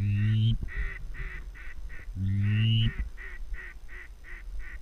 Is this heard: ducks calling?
yes